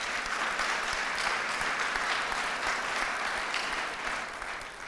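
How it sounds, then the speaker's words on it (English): An audience at the opening ceremony of the World Trade Centers Association's 53rd General Assembly claps steadily in a large hall. The applause is sustained and moderately loud, with no talk over it, and eases off slightly at the end. "Please, a round of applause for him."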